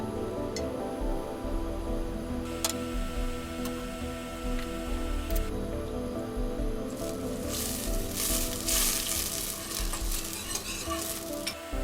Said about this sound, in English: Add butter and olive oil to the pot.